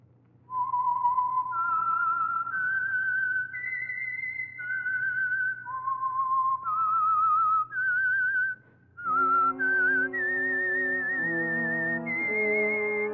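The Whistler radio program's signature whistled theme, presented by Signal Oil: a lone melodic whistle rising and falling through a haunting tune, joined partway through by a sustained orchestral chord beneath it, with a low steady hum throughout.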